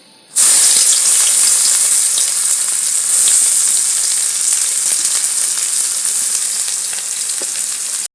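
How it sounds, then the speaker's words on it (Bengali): Onion hits hot oil in a pan with a sudden loud burst of sizzling, then a dense, steady frying hiss that continues close up and gradually eases slightly. "তেলটা আমার ভালোভাবে গরম হয়ে গেছে বন্ধুরা আগে আমি পেঁয়াজ দেবো"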